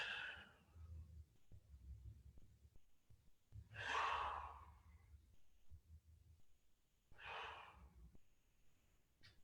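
Slow, deliberate breathing in a calm relaxation exercise, with three long airy breaths spaced a few seconds apart, each swelling and fading, close and quiet, with no talk.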